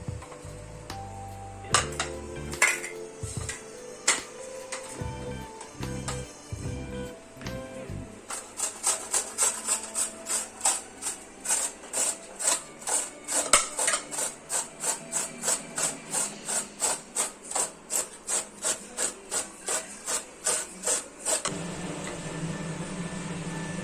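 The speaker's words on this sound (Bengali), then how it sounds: "এবারে আমি পেঁয়াজটা গ্রেড করব" An onion rubbed against a hand grater, irregular scrapes at first, then a long run of steady, rapid rasping strokes, close and fairly loud, with no talking.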